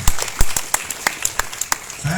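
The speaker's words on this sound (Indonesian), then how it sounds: "Tepuk tangan untuk para santri." An audience at a pesantren gathering gives scattered applause for the santri students: a loose run of separate, fairly close claps over about two seconds rather than a dense ovation.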